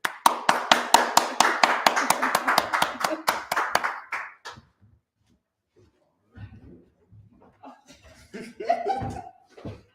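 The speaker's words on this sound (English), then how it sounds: "I want us to all stand to our feet and give a round of applause" Audience applause at a lecture or worship gathering, dense clapping for about four seconds that quickly dies away, followed by a quiet room with scattered sounds and a brief voice.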